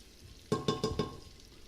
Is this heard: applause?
no